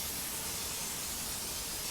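A firefighting water hose spraying in the Emergency Manhattan game, a steady broad hiss that runs evenly throughout at moderate level, with no talking.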